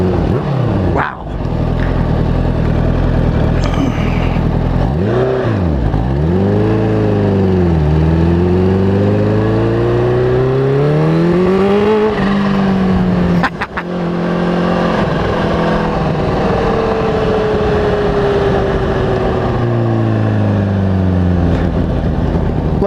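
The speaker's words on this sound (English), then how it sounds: "Left it in first to give Mark a taste of what his exhaust sounds like as I went by him." A 2023 Kawasaki Ninja H2 motorcycle with a Vandemon exhaust revs hard in first gear as it passes close by, its loud engine note climbing, dipping and sweeping for a long stretch with steady wind noise.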